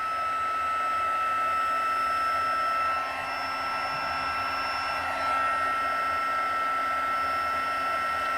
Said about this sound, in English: And let's grab our heat gun.